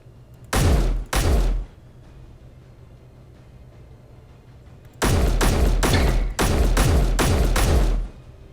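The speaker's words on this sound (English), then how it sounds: "now you get to hear the new rifle sounds" A new rifle in the Space Engineers game fires loud, sharp automatic bursts: two short volleys, a pause, then several longer rapid-fire bursts, heard alone.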